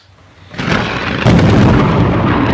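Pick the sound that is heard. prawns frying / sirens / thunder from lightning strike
thunder from lightning strike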